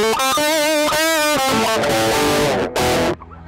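Electric guitar played through a TSE 808 overdrive pedal plugin into an Emissary amp plugin, giving a loud, distorted tone with a run of picked notes and sustained chords, ending abruptly into quiet.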